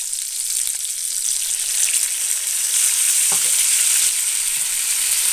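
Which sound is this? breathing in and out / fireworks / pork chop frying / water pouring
pork chop frying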